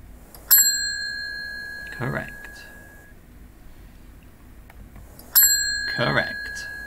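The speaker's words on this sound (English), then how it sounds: "it will play the incorrect ding" Two bright electronic feedback dings from a PsychoPy Stroop experiment ring about five seconds apart, each clear and sustained, and a short spoken word follows each chime.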